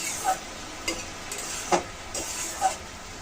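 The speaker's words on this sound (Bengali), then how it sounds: "এখন আমি ডাটা দিয়ে শাক রান্না করবো।" Red amaranth greens with their stalks cook in a pan, a soft steady sizzle broken by four or five sharper scrapes and clinks of stirring, close by with no talking.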